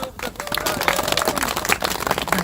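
An audience applauds at a memorial ceremony marking the 72nd anniversary of the Battle of Chosin Reservoir, with dense, steady clapping that fills the whole moment while a voice carries on over it.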